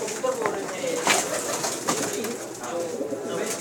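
Tania-breed pigeons coo and flutter softly in a loft, several low calls overlapping at close range with steady background noise.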